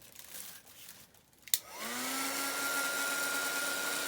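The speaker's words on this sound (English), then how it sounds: "let me just dry this quickly with my heat tool." Electric heat tool switched on to dry craft paint, starting with a click and a rising whir that settles into a steady loud blowing hum.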